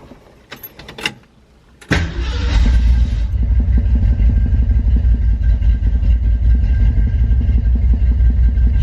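A 1968 Ford Mustang Fastback engine cold-starts after a short crank, catching at once and settling into a loud, steady, rumbling idle close by.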